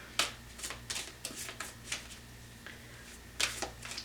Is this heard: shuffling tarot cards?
yes